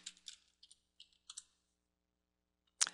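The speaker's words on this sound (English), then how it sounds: "I'll type in FTP and then the address of the FTP server." Keystrokes on a computer keyboard typing an FTP command at a Windows prompt: quick bursts of clicks in uneven clusters, close and crisp, then a pause before one sharper keypress at the end, with no voices.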